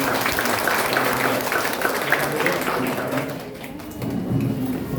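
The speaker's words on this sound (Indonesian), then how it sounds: "Tepuk tangan beliau-beliau Yesus." A church congregation in Anjir Kalampan, Kapuas, applauds in a continuous wash of clapping that fades slightly near the end, with voices speaking over it.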